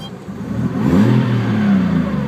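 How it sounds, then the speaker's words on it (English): Datsun Z with an RB30 engine pulling away as the clutch is let out, a close, loud engine note rising in pitch over a couple of seconds. "All right, I'll let the clutch out."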